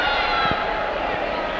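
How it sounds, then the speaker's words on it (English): Wrestling arena crowd booing a front chancery chokehold, a sustained loud roar of disapproval filling the hall throughout, with a commentator's voice woven into the din. "The crowd doesn't like that one at all."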